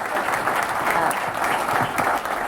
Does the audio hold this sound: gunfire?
no